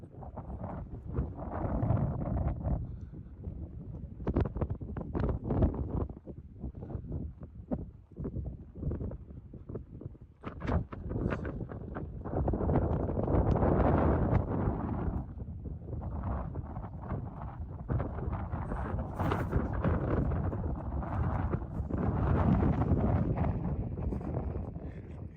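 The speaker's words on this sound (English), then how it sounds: "Pretty windy." Strong outdoor wind buffets the microphone in loud, uneven gusts and rumbles that swell and ease throughout, with no speech.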